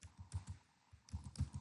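Rapid keystrokes tapped on a computer keyboard while entering text into presentation software, a close, soft, uneven clatter with a brief pause in the middle and no voices.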